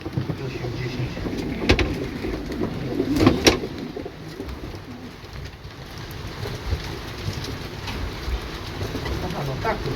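Pigeons coo and flutter as they are caught and handled for a racing flight, soft bird calls and wing sounds close by against a steady patter of falling rain, with a few sharper knocks and bursts.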